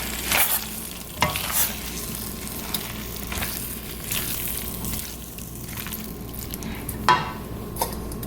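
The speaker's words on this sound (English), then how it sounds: "We're gonna add in our broccoli. We're just gonna mix" Broccoli is stirred into beef sizzling in a pan for a copycat Panda Express beef and broccoli. A steady fry hiss runs throughout, with scraping stirs and clacks of the utensil against the pan, and no talking.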